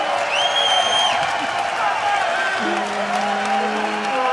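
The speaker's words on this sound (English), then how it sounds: "If you just let them cheer for a second." A London crowd at a 2014 EU LCS Fnatic vs Millennium esports match cheers in a steady, dense roar that holds loud throughout, with whoops and a voice or two riding over it.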